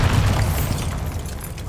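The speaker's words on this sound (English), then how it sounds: "Bombarda!" A deep, rumbling blast from the Bombarda explosion spell in the video game Hogwarts Legacy, a loud low boom that rolls off over under two seconds with no talking.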